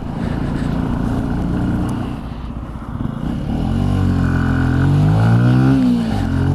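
A Benelli Tornado TNT 125cc motorcycle engine drones loudly and steadily nearby, its pitch sweeping up and down through several revs as the bike filters along.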